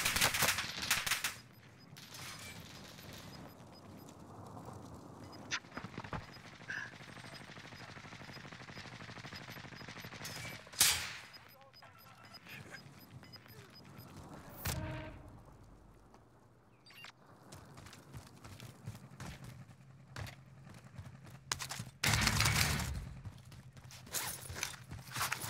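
Gunfire in Warzone Rebirth, including sniper rifle shots, crack out as scattered loud single reports and short bursts, some near and some farther off, over quieter footsteps and movement, no talk.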